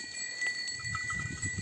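Goats and sheep on an organic farm bleat and shuffle close by over a steady background hum, with a few short animal calls and low rustling movement.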